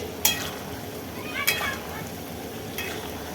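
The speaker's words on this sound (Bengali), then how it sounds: "বিরিয়ানি করা হবে এই বেরেস্তার জন্য পেঁয়াজ ভাজছি এখানে" Sliced onions fry steadily in hot oil for biryani beresta, a continuous close sizzle with a few sharp stirring scrapes and clinks of the spatula.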